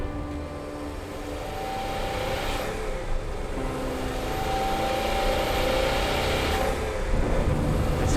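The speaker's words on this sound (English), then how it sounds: "Listen to the noise. It's the boxer engine, the turbo, and the grip." A Subaru Impreza GT Turbo 555 road-legal rally car with a turbocharged boxer engine pulls hard on a winding road, its engine note rising steadily and swelling louder through the run, with no voices.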